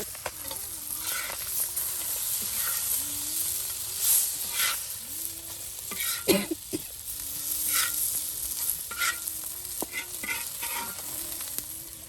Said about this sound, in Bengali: এই শেষ হয়ে গেল আমাদের আজকের মাছ ভাজা